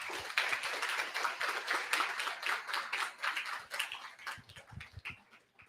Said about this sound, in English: So just a short round of applause for them.